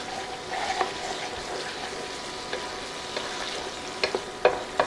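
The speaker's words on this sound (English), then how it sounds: "I'm just going to stir this all up." Sloppy joe mixture seasoned with pepper and salt being stirred in a skillet: a steady close sizzle with scraping spoon strokes and a few sharper taps toward the end.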